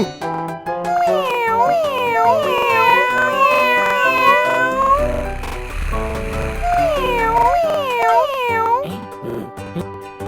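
A cartoon cat in a children's alphabet song meows repeatedly in high, rising-and-falling cries over a bouncy musical backing, with a short pause midway before more meows.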